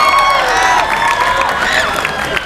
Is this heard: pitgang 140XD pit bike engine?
no